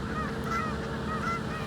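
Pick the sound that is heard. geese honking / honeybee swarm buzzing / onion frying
geese honking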